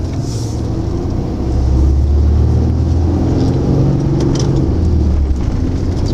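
Truck pulling away in second gear with a manual gearbox, a loud, close engine drone that rises in pitch and strength after the first couple of seconds and then holds steady.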